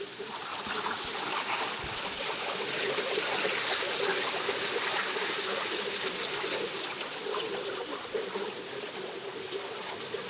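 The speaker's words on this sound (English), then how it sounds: "Stunning waterfall behind me. Small, but beautiful." A small forest waterfall rushes in a steady, broadband wash of falling water, close and continuous with no break.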